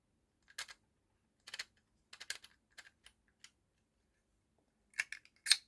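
An Action label maker being typed on, producing sparse, clicky keypresses in short irregular bursts that are close and quiet, with near silence between them.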